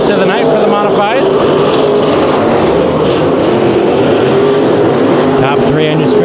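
Modified race cars roar through a night heat race at Bakersfield Speedway, a dense, continuous wash of engine noise with a commentator talking steadily over it.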